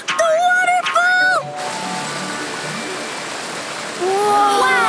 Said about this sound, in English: Is that a waterfall?